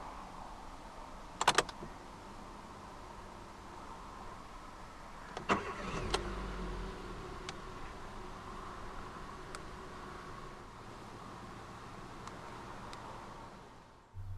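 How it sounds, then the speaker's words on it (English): A 2015 Hyundai i30 1.4 Blue Drive 100 SE five-door is started with a key: a brief clicks-and-whir crank near the start, then the engine catches around the middle and settles into a quiet, steady idle. "to start, put your foot on the clutch, insert the key into the slot right here, and twist it like you would in a normal car"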